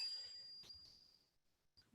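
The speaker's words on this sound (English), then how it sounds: "I send my heart out along with the sound of this bell." A mindfulness bell rings in a Buddhist dharma talk on the practice of stopping. Its faint, clear tone lingers and slowly fades into near silence, followed by a soft knock at the end.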